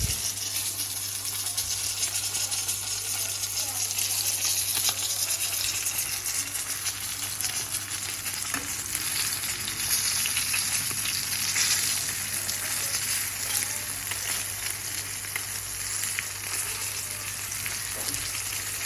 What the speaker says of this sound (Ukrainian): так що жаримо рибку